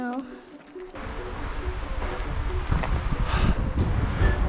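Wind blows across a mountainside in the Big Horn Mountains during a snowstorm. It rises after a quiet start into a loud, gusty, low rumble buffeting the microphone, with faint chirps and rustling mixed in.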